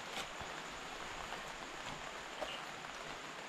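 Steady rain falling in an outdoor spot, a continuous even hiss of drops with a few faint taps, no voices.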